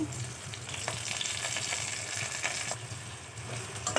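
Unpeeled garlic cloves and drumstick leaves sauté in a pan for a chutney, giving a steady close sizzle and crackle with scraping stir strokes throughout.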